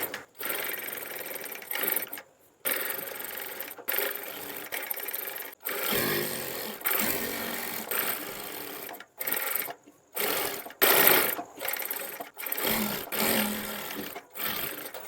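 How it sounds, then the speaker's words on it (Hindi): Close, loud runs of a sewing machine stitching along the edge of a buckram-backed neckline, repeated bursts of rapid needle chatter separated by short silent pauses. "चलिए मैं यहाँ से सिलाई शुरू करता हूँ"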